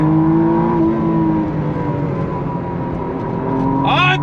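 A 2025 McLaren Artura Spider supercar drones loudly from inside the cabin under launch control, its engine holding a steady high-pitched tone that gradually shifts pitch as the car pulls, ending with a quick rising sweep.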